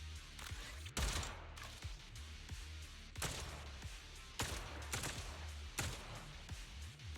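Gunfire in a Hoyoverse shooter game: repeated loud bursts of shots and impacts in clusters across the scene, with sharp thumps between volleys and continuous game ambience beneath.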